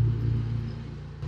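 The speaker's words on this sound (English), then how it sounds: "The car just passed by." A car passes by, a loud low rumbling engine whoosh that swells at the start and fades away over about a second, with no talk over it.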